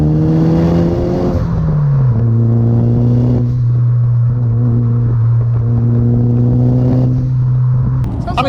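A Toyota Celica GT4 ST205, about 25 years old, revs through a large aftermarket exhaust, its loud close engine note rising and then holding a steady high drone with small swells for several seconds.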